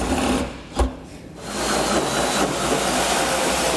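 A drill bores a hole through the bed of a 2022 Ram pickup for an underbed gooseneck hitch, a continuous buzzing grind close by with a short sharp catch early on before steady cutting resumes.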